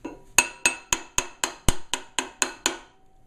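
Bent metal being fine-tuned with a smaller hammer, about ten sharp, ringing strikes spaced evenly a fraction of a second apart, each metallic clink decaying quickly, loud and close with no talking.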